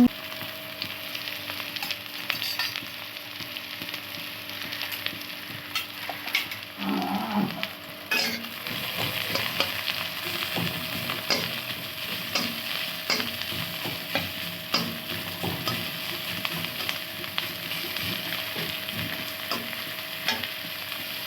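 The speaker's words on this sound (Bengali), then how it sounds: "পেঁয়াজটা নেড়ে চেড়ে ভেজে নিয়ে" Onion sizzles and fries with potato masala in a pan, stirred with occasional scrapes and clinks; a steady hiss runs throughout, close and without talk, and a brief low animal-like moan sounds near the middle.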